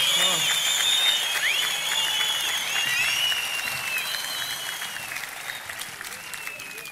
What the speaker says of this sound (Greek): θα ήθελα τώρα να ακούσουμε και να χειροκροτήσουμε, να υποδεχθούμε τον Δήμαρχο